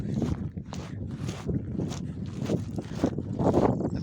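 Strong gusty wind outdoors beside a creek buffets the microphone in uneven bursts, a loud rushing roar that swells and fades repeatedly.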